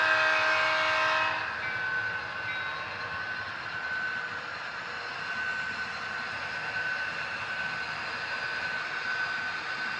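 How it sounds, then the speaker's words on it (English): A model Santa Fe freight train, a manifest train led by yellow-bonnet diesels, runs on a home layout with a brief horn-like tone at the start, then a steady, moderate rumble and hiss of rolling wheels. "It is a Santa Fe freight train."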